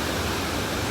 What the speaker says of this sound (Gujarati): તો બતાવી દો તમને અવાજ આવતો જ છે ગીરાધોધનો.